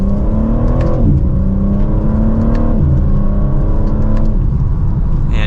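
A 2024 BMW M4 Competition Convertible in Sport Plus mode accelerates hard in second gear, its engine note climbing steadily in a loud, continuous rising roar with brief dips as it pulls, heard from inside the car.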